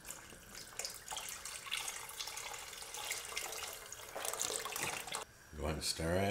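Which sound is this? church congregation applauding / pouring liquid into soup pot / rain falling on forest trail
pouring liquid into soup pot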